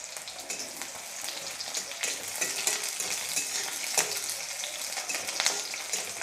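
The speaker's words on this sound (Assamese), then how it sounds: "পিঁয়াজখিনি ৰঙচুৱা হোৱালৈকে মই ভাজি ল'ম" Onions sizzle and fry steadily in a pan together with four green chillies, a close continuous crackle with occasional stirring clinks and no talk.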